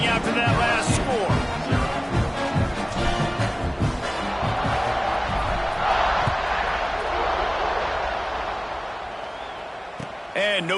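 A football video game crowd buzzes steadily through the stadium, a constant roar with a brief thump early on, while a play-by-play voice talks over it.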